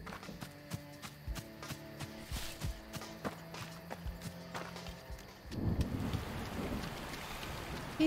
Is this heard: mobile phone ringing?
no